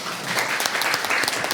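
Audience applause at a personal information future forum, a short burst of dense clapping from a seated crowd in a hall, fairly close and steady.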